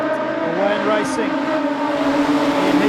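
Production sedan race cars roar together down the main straight at Wahgunyah Speedway at night, a loud, continuous engine drone with layered revving tones under a commentator's voice.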